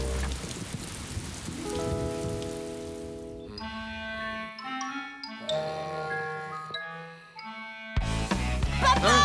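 Rain patters on a surface while musical tones ring out over it, with the rain coming in and out.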